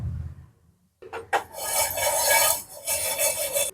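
Dry fruits are stirred and roasted in a pan over a low gas flame, giving a steady dry scraping and rustling that starts after a brief quiet moment and continues close by.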